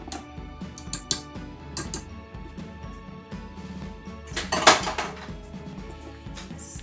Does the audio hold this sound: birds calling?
no